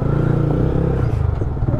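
A motorcycle exhaust revs loudly and close, a dense throbbing engine roar with rising and falling pulses that fills the whole short stretch.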